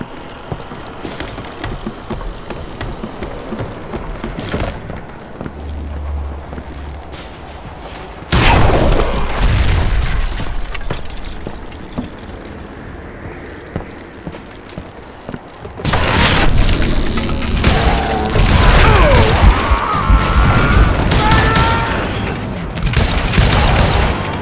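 Dynamite explosions in the Wild West video game Call of Juarez: a quieter stretch breaks into a loud booming blast around the middle, then another heavy burst of rumbling, crackling detonations continues to the end.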